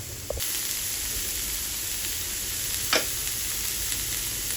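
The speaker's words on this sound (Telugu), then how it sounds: "దీంట్లోనే కొంచెం సాల్ట్ వేసేసుకొని కొద్దిగా కారం వేసుకోవాలి మీ దగ్గర ఉంటే కొత్తిమీర కూడా యాడ్ చేసుకోవచ్చు కాసేపు వీటిని ఫ్రై అవ్వండి" Egg puff filling of egg with salt, chili and coriander fries in a pan, making a faint, even sizzling hiss broken by a couple of brief stirring scrapes.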